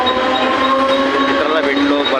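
A local train runs past at Thane station on the Mumbai suburban line, a steady loud rumble and rattle that fills the whole stretch. A horn-like tone rises above the continuous noise.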